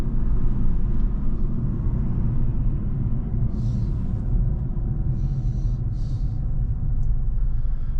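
Inside a car driving at night, a loud, steady low road rumble fills the cabin continuously, with a few faint higher hisses briefly rising over the drone.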